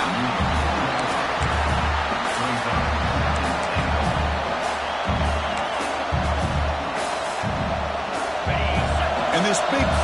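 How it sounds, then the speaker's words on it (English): A big stadium crowd roars without letup during a goal-line stand in a college football dynasty-mode video game, a dense wash of cheering with rhythmic thumps under it and no clear talk. "this big crowd doing everything possible to inspire this defense down here near the goal line"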